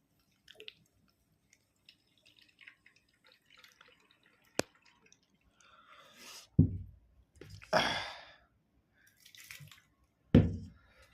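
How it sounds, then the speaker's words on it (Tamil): Faint, quiet drips and a few brief splashy gushes of gooseberry juice being poured through a strainer, separated by near-silent pauses. "வடிகட்டி ஊற்றுற பாருங்கள்"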